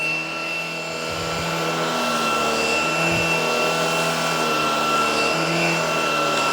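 A Shark PowerPro Flex Pet cordless vacuum (model IZ387H) runs with a steady, loud motor whine and airflow rush that holds constant throughout, without any talking.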